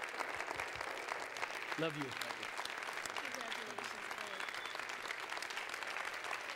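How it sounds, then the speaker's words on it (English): A congregation at an ordination service claps in sustained, dense applause, with a voice briefly speaking over it partway through. "Yes, you can give him a hand. You're going to clap, clap good."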